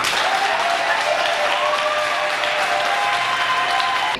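A large crowd at a public meeting with a vice-minister in the Lualaba and Haut-Katanga provinces applauds and cheers loudly and continuously, a dense, unbroken roar of clapping with voices mixed in.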